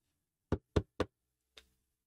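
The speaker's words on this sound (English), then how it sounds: "I thought you were knocking." Three quick, sharp knocks on a door in even succession, then a pause and a single softer fourth knock, close and clear against silence.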